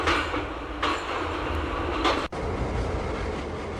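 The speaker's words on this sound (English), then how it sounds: "Enjoy the beautiful cab ride of Pune WDM 3A locomotive." Rewa-Rajkot Express running on Indian rails, heard from inside an ICF general coach: a steady loud rumble and rattle of wheels and carriage, with brief whooshes and a sharp dip as something passes.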